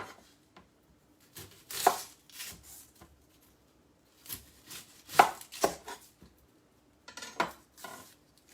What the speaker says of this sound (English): So we will start by chopping an onion.